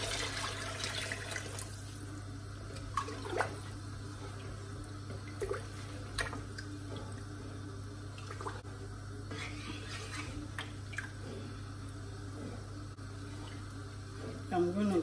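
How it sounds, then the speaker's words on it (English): Meat stock poured into a pot of Nigerian party jollof rice, a soft continuous trickling liquid stream under quiet kitchen background and a few light clinks. "Add the meat water."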